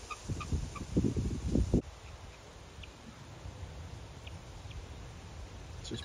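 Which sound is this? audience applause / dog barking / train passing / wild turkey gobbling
wild turkey gobbling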